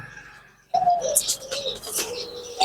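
Lakka fantail pigeons cooing close by at a pet bird farm, with soft repeated coos and a few chirps following a quiet start.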